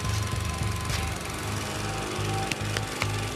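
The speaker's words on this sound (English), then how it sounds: "You suction dredging?" A suction dredge engine running at a river, a steady close mechanical chugging drone with a rapid pulsing rhythm and a few sharp knocks near the end.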